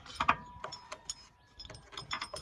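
A ratchet turns a radiator support bolt on a 1986 Ford F150. It gives a few brief, close metallic clicks in short bursts, with quiet gaps between them.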